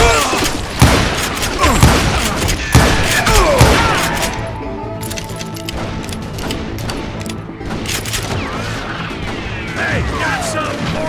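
Gunfire in the PC game Gun of Jyarez, loud sharp shots and booming blasts in a rapid volley, then thinner scattered fire as shouting voices carry on over the fight.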